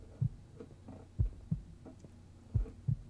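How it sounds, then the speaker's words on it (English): A heartbeat sound effect from a rap track thumps in loud, low double beats, several pulses spaced out over a steady hum. "The heartbeat is cool."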